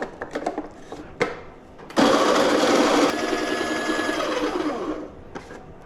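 A coffee grinder set to about grind 28 grinds beans in a loud, close, steady whir lasting several seconds. It is preceded by a few light clicks and taps and shifts slightly in pitch partway through.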